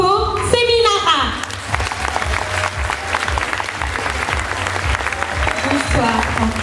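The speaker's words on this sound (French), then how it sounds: "Je vous demande, mesdames, mesdemoiselles, messieurs, d'accueillir sous vos applaudissements Monsieur Franco Seminara." Audience applause welcoming a guest on stage at a Melle Mons and Mister Hainaut pageant evening, loud sustained clapping with crowd noise and a brief voice and music at the start.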